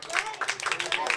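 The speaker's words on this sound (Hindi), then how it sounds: "इस बच्चे के लिए जरा तालियां होनी चाहिए," An audience gives a short burst of clapping for a young boy, a quick uneven patter of several hands close by, with people talking over it.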